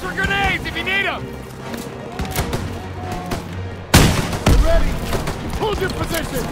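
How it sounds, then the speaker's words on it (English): Rapid bursts of gunfire and heavy booms in a Call of Duty: WWII battle at a fortress, loud and continuous with shouted voices over the shooting. "Suppressive fire! Keep firing!"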